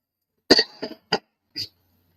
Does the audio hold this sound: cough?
yes